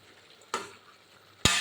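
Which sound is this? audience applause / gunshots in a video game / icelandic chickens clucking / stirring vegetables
stirring vegetables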